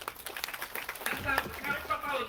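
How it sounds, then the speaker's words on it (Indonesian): An audience applauds Bang Rudi at the inauguration of a Qur'an school and Baitulmaal in Pemangkat: scattered, moderately loud clapping mixed with a voice talking over it. "Tepuk tangan tuh Bang Rudi."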